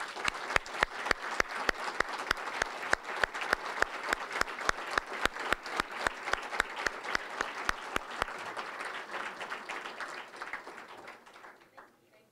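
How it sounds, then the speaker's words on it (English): Audience applause at an honors recognition dinner, a sustained burst of sharp individual claps from a medium-sized room that holds steady for about ten seconds before thinning out and fading. "with your applause, thank them for the fine dinner that they've prepared and served this evening"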